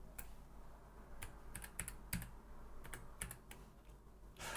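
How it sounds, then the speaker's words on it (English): Clacking keys on a reprogrammable mechanical keyboard, typed in irregular bursts of sharp, close clicks over a low background hum, with no voices. "I've got a reprogrammable mechanical keyboard here"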